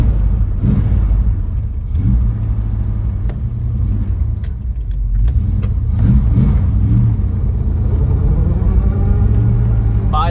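A restored 1969 Dodge Dart 340 with a four-speed, finished in Hemi Orange, rumbles close by and revs in several short bursts, with a steady low exhaust note between the blips and faint voices at moments.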